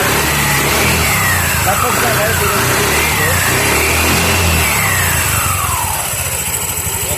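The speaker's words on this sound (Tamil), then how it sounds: "ஆக்சிலரேஷன் கொடுக்க சொல்லி பார்க்கலாம்." A TVS Jupiter scooter engine, freshly given a clutch overhaul and running with its air filter off, revs up and down in repeated swells as the throttle is opened, with a voice talking over it.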